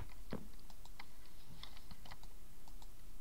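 Computer keyboard keys struck hard and fast during Minecraft survival play, irregular clacks and taps at close range with a heavier thump near the start, no talking.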